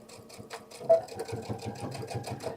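Sewing machine stitching a seam on a bag in quick, steady bursts of mechanical chatter, close and fairly loud, with no talking over it.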